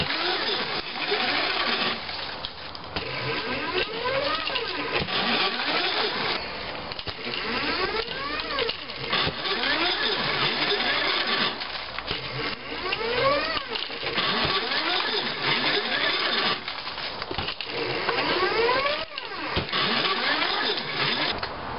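A DIY semi-automated potting machine with a dibber and a pot dispenser that corkscrews off pots runs continuously, a steady mechanical whir with rising and falling motor sweeps and clunks, loud and close, with no talk.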